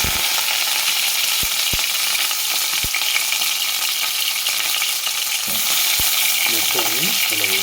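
Eggplants for a stuffed brinjal curry fry in hot oil, a steady loud sizzle running throughout with a few sharp clicks of pieces or a spoon against the pan, and a louder bubbling surge near the end.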